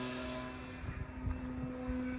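An E-flite 4-Site 3D flat foam RC airplane flies overhead, its small electric motor giving a steady high whine with a few wavering surges, faint and distant.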